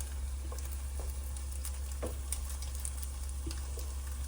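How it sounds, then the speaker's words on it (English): Sliced spam fries in a pan until golden brown, giving a steady, close sizzle with scattered small pops and crackles throughout, and no talking. "Cook the spam until it's golden brown."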